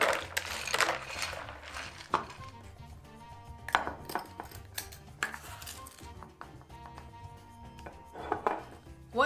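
About a cup of ice cubes tipped into a blender for a Mexican drink recipe, with clattering, cracking knocks and clinks spread unevenly across the span, close and fairly loud.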